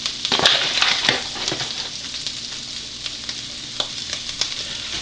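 Flour cooks in sausage grease over medium heat for sausage gravy, making a close, even sizzle with a few sharp stirring scrapes and taps, strongest at the start.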